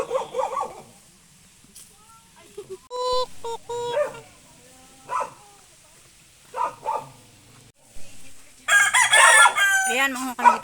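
Chickens on a rural Philippine farm, with a rooster crowing in several bursts amid scattered clucking, a dog barking at times and brief voices nearby.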